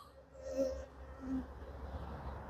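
Honey bees at a nucleus hive give a faint, steady buzzing hum for a couple of seconds, with low background rumble and no speech.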